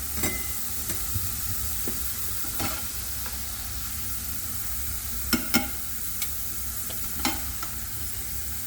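Carrot pieces deep-fry in hot oil with a steady, moderate sizzle, punctuated by several sharp clinks and taps of a utensil against the pan, and no one speaks.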